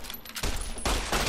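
Sustained gunfire from Fallout New Vegas, a dense loud rattle of shots building in two surges over a brief moment, with no talk.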